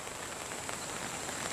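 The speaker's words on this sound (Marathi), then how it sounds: "खाली पाऊस आहे ना पाऊस आहे" Rain falls outdoors in a steady, dense patter on surfaces, a continuous close wash of drops with no voices.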